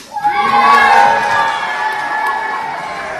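A crowd of children at a school assembly cheers and shouts loudly all at once, a bright sustained roar that swells then slowly fades.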